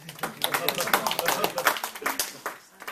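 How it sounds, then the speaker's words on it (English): One person clapping for themself during a club meeting, a quick run of sharp individual claps, close and fairly loud, lasting a few seconds. "So I applaud myself."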